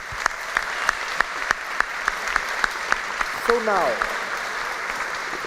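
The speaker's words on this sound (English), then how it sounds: "Can I get applause for them?" Audience in an old church hall applauding panel speakers at a tech conference, a steady crowd clapping with sharp individual claps standing out; a brief word from a speaker cuts in near the end as the applause continues.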